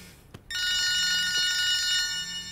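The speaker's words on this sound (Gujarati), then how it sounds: "તારી ફોનની રિંગ વાગે છે, ઉઠ ચાલ હવે." A mobile phone rings loudly in a Gujarati film scene: a bright electronic ringtone of repeating tones starts abruptly after a brief quiet moment and carries on alone.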